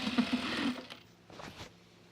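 A sewing machine runs in a quick, even burst while stitching a pocket onto overalls, then slows into a few short separate whirs and stops, heard close with no talking.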